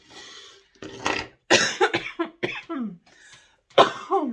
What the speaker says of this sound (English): I do still have this cough that just takes my breath away